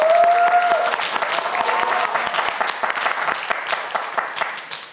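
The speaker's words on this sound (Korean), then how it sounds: "파이팅 외치면 큰 박수 보내주세요." On a televised science quiz show, a studio audience bursts into loud, sustained applause just after a shouted group cheer fades. The clapping stays dense and steady, then eases off slightly.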